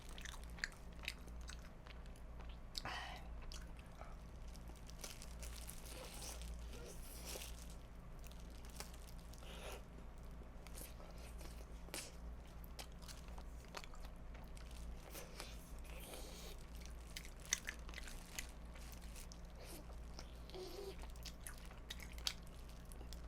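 Chewing on Goobne Mala Volcano fried chicken, crispy skin and meat, with repeated soft, moist bites and crunches close to the mic, steady throughout with no talking.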